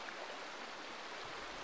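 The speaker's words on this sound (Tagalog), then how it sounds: "ito kasi yung ilog" Mountain river stream flowing, a dense continuous rushing wash of water, steady and close with no voices.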